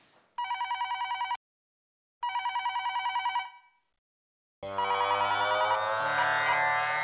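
Two bursts of a classic electronic telephone bell ring loud and clear, separated by short silences, followed by a swell of dramatic background music.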